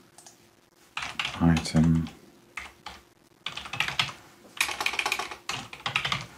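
Rapid clattering keystrokes on a computer keyboard while building a SharePoint Online workflow, coming in close bursts with brief pauses, alongside someone speaking briefly.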